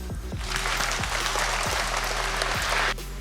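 Applause from an audience at a charity boxing evening in Lviv, a dense, loud burst of clapping that holds steady for about three seconds before cutting off abruptly.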